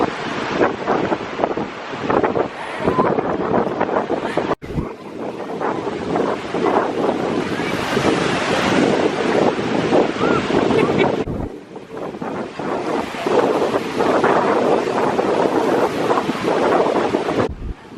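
Strong wind buffets the microphone on a beach, with waves and surf washing behind it in a loud, steady roar that drops briefly twice before surging back.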